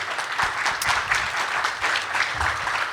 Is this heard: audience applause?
yes